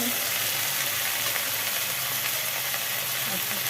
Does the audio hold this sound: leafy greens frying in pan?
yes